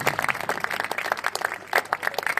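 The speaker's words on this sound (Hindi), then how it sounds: "एक बार जोरदार ताली के साथ आप उनका भी स्वागत करें।" An audience claps to welcome guests at a Republic Day school speech. The applause is dense and steady, moderately loud, and lasts a couple of seconds.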